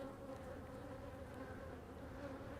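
Honey bees at an open nucleus hive during a queen inspection hum in a faint, steady, continuous buzz with no voices.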